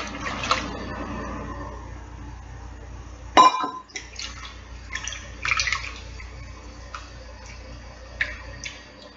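Gelatin mixture is poured into a milk mixture, giving a soft liquid trickle, a brief splash and light glassy taps and clinks in a quiet kitchen.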